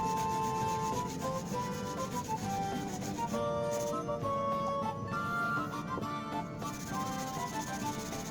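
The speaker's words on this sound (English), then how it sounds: "So we're going to grind the blade the way early medieval smiths ground theirs" A Norwegian seax knife blade being ground by hand in the early medieval manner gives a steady, close abrasive rubbing and rasping, running continuously under a layer of music.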